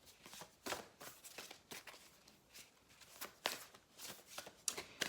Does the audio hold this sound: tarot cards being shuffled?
yes